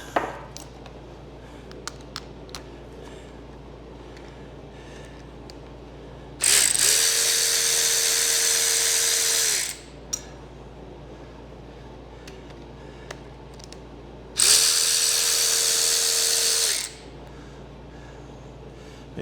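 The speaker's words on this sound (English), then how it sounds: "I just pulled the two screws out of this solenoid now" A socket wrench ratchets out the screws of a 4L60E transmission solenoid during a 4WD-to-2WD conversion, two sustained bursts of loud, rapid clicking separated by quiet shop background.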